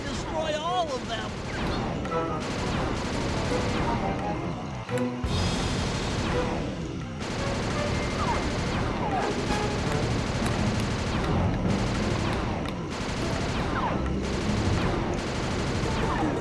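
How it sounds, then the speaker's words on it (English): Hunter-seeker bombs rain down in the Sly 2 video game, a dense, continuous barrage of explosive bursts and rattling blasts layered with game music and effects, loud throughout, while a voice talks over it. "Rajan is raining down a bunch of hunter-seeker bombs on Murray."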